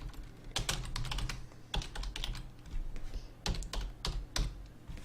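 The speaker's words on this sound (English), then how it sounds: "And then you can type it as to whatever you want." Rapid, continuous typing on a computer keyboard fills the clip, with close, steady key clicks in uneven bursts over a faint background and no talking.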